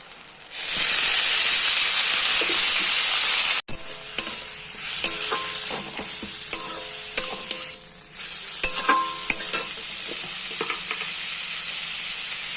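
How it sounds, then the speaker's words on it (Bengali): Bulbuli greens tossed into a pan of frying eggplant: a loud burst of hissing sizzle drops off sharply, then steady frying continues under repeated scraping and stirring strokes, close up. "বেগুনটা এক্সট্রা করে তুলবো না, এর মধ্যেই শাকটা ছেড়ে দেবো।"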